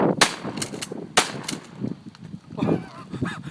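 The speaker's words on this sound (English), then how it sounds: "That's how you use a shotgun." A shotgun is fired several times nearby, sharp loud blasts spaced irregularly, with a little talk in the background.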